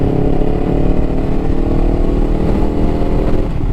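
Kawasaki Ninja 500 engine humming steadily while riding, a continuous mid-pitched drone with wind rush, loud and close with no talk over it.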